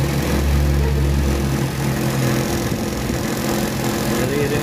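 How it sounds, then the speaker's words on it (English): A car's auxiliary radiator fan blower running noisily, a loud steady whirring drone close by with a low rumbling hum that shifts slightly partway through. "Naririnig nyo yung blower."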